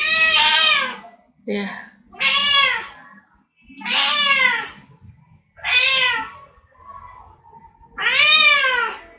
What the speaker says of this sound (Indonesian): ini ada kucing